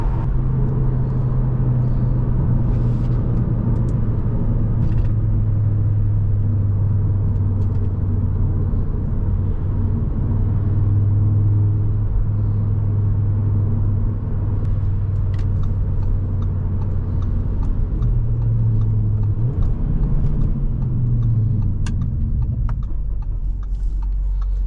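An Audi RS3 with a DSG gearbox drives along a road, a steady low engine drone heard from inside, rising and shifting in pitch near the end as it changes gear.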